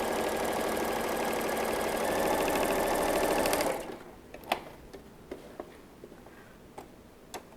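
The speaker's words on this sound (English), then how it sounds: "Take it to the sewing machine. and then just sew on those 2 lines." A sewing machine stitches across quilt blocks in a rapid, steady mechanical whir for nearly four seconds, then stops. A few sharp ticks and clicks from handling the fabric and machine follow in the quiet.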